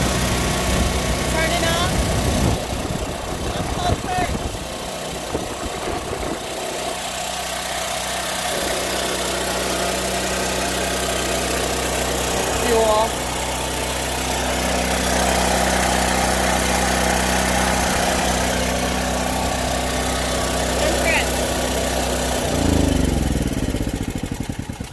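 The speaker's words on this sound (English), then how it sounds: "you should let the generator run for about 5 minutes before you actually loading onto it" A generator engine for a food truck runs continuously at a steady idle, a loud even mechanical hum and rattle throughout with some brief handling noises near the start.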